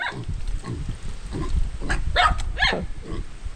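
Native pigs at feeding time grunt and squeal in a burst of overlapping calls, some close and sharp, others lower and rougher, with a steady background hum.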